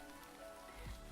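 Steady rain falls in a video game scene, a soft, even patter of drops on a surface that continues faintly and without a break throughout.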